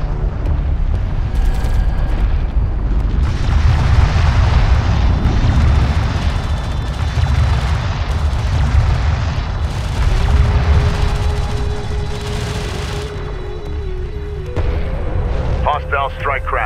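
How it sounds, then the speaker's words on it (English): Artillery fire support in Homeworld Deserts of Kharak pounds a position with deep, rumbling explosions that roll continuously and loudly, joined by radio voices and a rising mechanical whine near the end. "Immediate fire support on that position."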